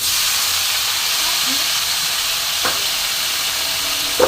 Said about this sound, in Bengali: এবার আমি দেখো এই যে টমেটো কেটে রেখেছি বন্ধুরা সবটা দিয়ে দিলাম